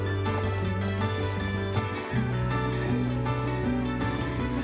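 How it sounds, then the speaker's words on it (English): A horse carrying a load gallops at full speed in the game Star Stable, its quick rhythmic hoofbeats sitting under a bed of continuous game music. "I'm so glad we can run full speed with stuff on our horse's back."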